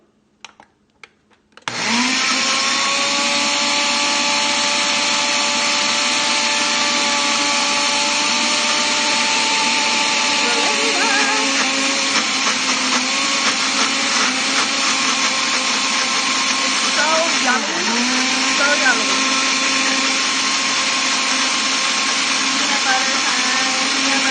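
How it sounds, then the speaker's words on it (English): A blender whirs loudly and steadily for over twenty seconds, blending peanut butter egg filling smooth, its motor pitch sagging briefly a couple of times as it works through the thick mixture. "put our little blender blade on here and blend this up smooth"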